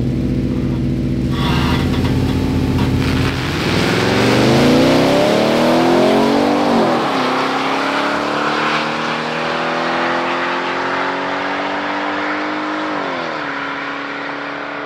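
A Cadillac CT5-V Blackwing's engine with a manual gearbox revs hard and accelerates through several gears, the pitch climbing and dropping with each shift, loud and close, then fading slightly.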